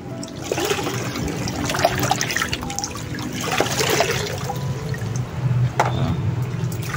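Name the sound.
watering orchids with water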